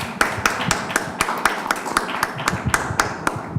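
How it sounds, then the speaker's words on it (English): Sparse, rhythmic clapping from a small audience after three presentations at a conference on sustainable employment and energy, sharp individual claps at a steady pace, moderately close and with no voices over them. "Give them very good applause"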